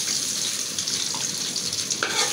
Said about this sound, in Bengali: মাছটা আমার ভাজা হয়ে গেছে, এখন আমি উঠাই নেব।